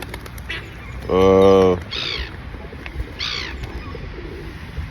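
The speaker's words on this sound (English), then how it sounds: "There's all sorts of birds around here." Several bird calls sound nearby: a loud, sustained harmonic honk followed by shorter rising chirps, with brief pauses and background noise.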